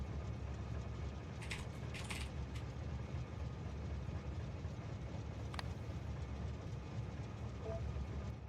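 Trains running in the factory-building video game Factorio, a steady low mechanical rumble with a few faint clicks and ratcheting ticks over it, continuous and fairly quiet.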